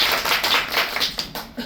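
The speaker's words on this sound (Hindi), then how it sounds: "तालियों के साथ स्वागत कीजिए आप सबका।" An audience clapping at an Independence Day celebration program, a dense, close burst of hand claps that thins out toward the end of a short stretch.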